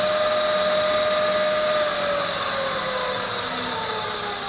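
A Bridgeport milling machine spindle spins at 2,800 RPM with a loud, smooth, steady whine and a high tone that fades partway through, free of rattles, recorded close and without talk.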